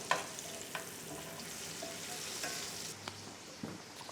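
Pork chops and apples frying in butter in a pan, a soft steady sizzle with occasional faint clicks and stirring taps, close and quiet, with no talking.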